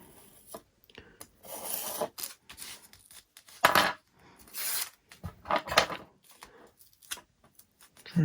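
Knife or blade cutting across the rear section of a FliteTest FT Goblin model plane, irregular close rasping and scraping strokes separated by short pauses, with no talking.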